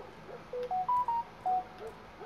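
A phone gives a short run of clear electronic beeps, five tones stepping in pitch, each lasting a fraction of a second, over quiet background murmur.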